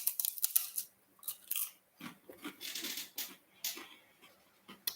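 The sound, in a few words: biting and chewing a crunchy corn cake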